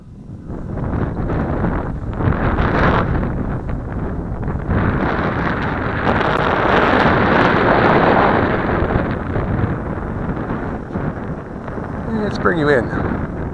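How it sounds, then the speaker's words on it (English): Strong wind buffets the microphone outdoors at an RC airplane flying field, a loud, continuous low rumble that swells and eases, with a brief higher whine near the end. "that wind is picking up way too much, folks"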